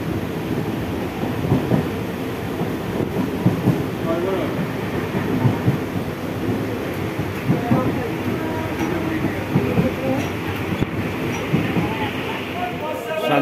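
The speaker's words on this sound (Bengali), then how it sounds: "একটু বাদেই ট্রেন দাঁড়িয়ে যাবে, ওটাই লাস্ট স্টেশন শান্তিপুর" A local train running into Shantipur station, a steady loud rumble with rhythmic rail clatter from on board, with voices talking over it.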